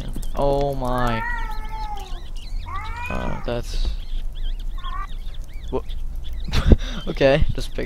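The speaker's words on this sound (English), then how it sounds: "They're meowing again." Creepy cat meows in the horror video game Erie, several drawn-out wavering yowls one after another with some short squeaky calls, close and fairly loud over a low background hum.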